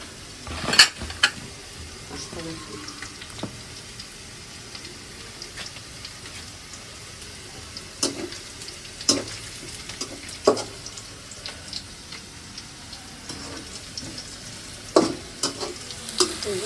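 Onions sizzle and crackle steadily in a hot pan, with occasional sharp scrapes and clinks of a spoon stirring, close and moderately loud.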